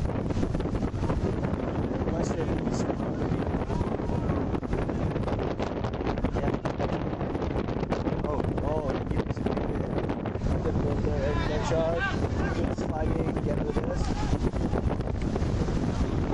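Heavy, continuous wind buffets the microphone throughout an outdoor ultimate frisbee final, a broadband roar that never lets up, with a commentator's voice partly buried under it.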